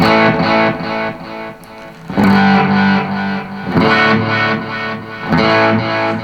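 Guitar notes through a Boss reverse effect pedal into a Fender Tone Master amp, swelling in backwards, each fading up and cutting off in a pulsing rhythm with a wobbly, reversed effect.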